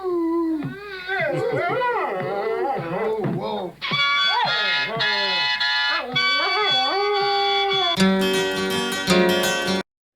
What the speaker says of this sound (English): He's got to play his old harmonica for his dog to sing.